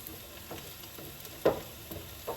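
Sardines and eggs fry in a pan with a soft, steady sizzle, broken by a few louder pops and spatters that stand out close by.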